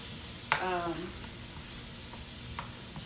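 Garlic in butter sizzles and simmers in a pan, a steady close frying hiss with a brief voice-like squeal early on and a few soft clicks.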